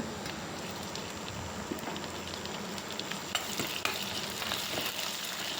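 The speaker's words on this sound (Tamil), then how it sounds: "நெக்ஸ்ட்டு ரெண்டு தக்காளி கட் பண்ணி வச்சுருக்கேன் அதையும் சேர்த்து வதக்கிக்கோங்க" Garlic and tomatoes sautéing in a pan, a continuous dense sizzle broken by occasional stirring clinks and scrapes, close and steady with no talking.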